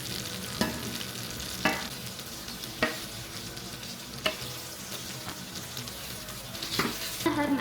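Burger patties fry in hot oil in a skillet with a steady, close sizzle, broken every second or so by sharp clicks and scrapes; no one speaks.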